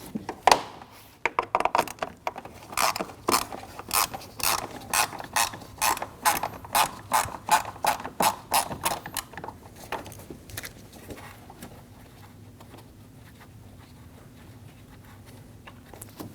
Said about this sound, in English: Using a T25 bit, we're going to remove the screw for that trim.